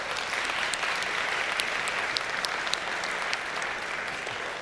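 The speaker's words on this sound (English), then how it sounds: "thanks for the applause there" An audience at a tech conference keynote applauds steadily, a dense wash of clapping that holds at an even level for several seconds before beginning to thin.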